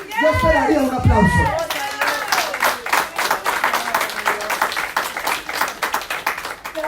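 Scattered audience clapping in a church during a sermon, starting after a preacher's voice fades and building into uneven, rhythmic claps from a modest crowd, with faint talk beneath.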